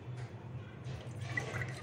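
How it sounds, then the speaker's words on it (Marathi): Juice trickling and dripping steadily through a strainer, close by and soft, with a light splashing that grows slightly toward the end. "आता ह्या पद्धतीने आपण ज्यूस गाळून घेऊया।"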